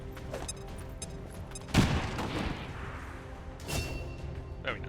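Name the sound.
frag grenade explosion in XCOM 2 video game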